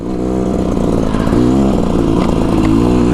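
A four-stroke motorcycle engine runs steadily close by, a loud continuous drone with harmonic revving that rises slightly toward the end, from a ride on a 2024 Beta Xtrainer through a mountain pass.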